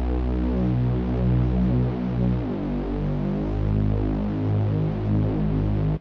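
A dense, low synthesizer rumble pad throbs with pulsing bass tones and shifting harmonics, loud and sustained for several seconds before stopping abruptly.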